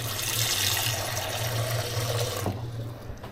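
Water pouring steadily from a kitchen tap as stuffing balls are prepared, a close continuous rushing hiss with a low hum beneath, then the flow cuts off near the end.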